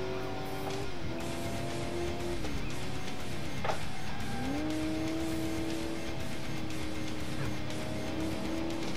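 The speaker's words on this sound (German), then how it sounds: "Das hier ist jetzt ein Tuner-Auto. Hier darf ich Nitro geben" Tuner car in the game Alarm für Cobra 11 accelerating on nitro boost, its engine whining up through rising gear sweeps with tire squeal, loud and continuous throughout.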